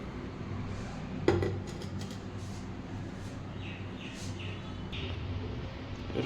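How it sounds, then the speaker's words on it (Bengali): A wok (kadai) set down on a home kitchen stove gives a single sharp metallic clunk early on, followed by a low, steady kitchen background with faint clinks. "এইবার এটাকে সরিয়ে কড়াটাকে রাখবো"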